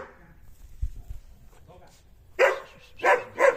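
A dog barks three times in the second half, loud, close and in quick succession, after a stretch of quieter movement and low thumps.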